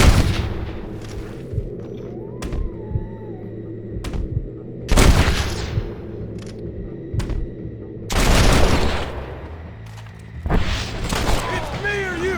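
Gunfire in the Western video game Red Dead Redemption, sharp shots scattered across the scene in bursts over a steady background din, with voices talking between the shots.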